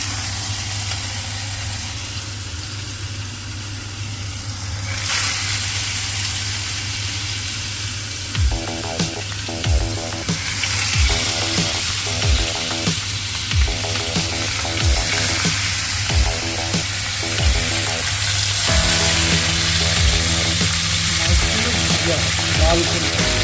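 Rohu fish pieces rubbed with salt and turmeric fry in hot oil, a steady sizzle running throughout with periodic clinks and scrapes of a utensil, while a voice talks over it.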